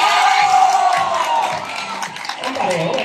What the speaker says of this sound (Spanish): ¡Gritos y aplausos del segundo bachillerato!